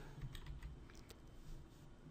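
Quiet, rapid keystrokes on a computer keyboard as a short command is entered into SAP software, soft irregular clicks close by with no speech.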